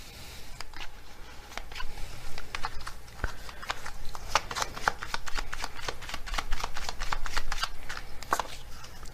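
Tarot cards are shuffled by hand, a rapid run of crisp riffling flicks and slaps that continues close and fairly loud throughout.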